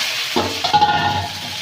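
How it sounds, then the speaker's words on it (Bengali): Onion with kohlrabi and potato frying in a pan in a village kitchen, a steady close sizzle with stirring clatter as the vegetables go in, no voices. "পেঁয়াজটা ভাজা ভাজা হয়ে গেছে, কেটে রাখা ওলকপি আলুটা দিয়ে দেবে।"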